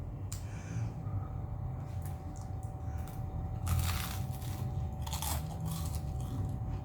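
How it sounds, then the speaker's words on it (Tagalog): Crunchy breakfast food is bitten and chewed close up, with irregular crisp crackles and crunches over a soft background hum and no talking. "Narinig niyo po ba yung crunch?"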